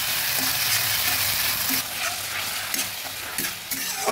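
Onion and ginger paste fries in a pan with a steady broadband sizzle, broken by repeated scraping and clinking strokes as it is stirred, close and fairly loud throughout.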